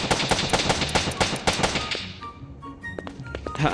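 Gunfire in the survival video game Plague: a fast, regular burst of thudding shots for about two seconds, then scattered quieter game sounds and tones.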